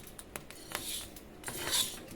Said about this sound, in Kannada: ನೋಡಿ ಚಟ ಚಟ ಸೌಂಡ್ ಬರಾಕತ್ತೈತಿ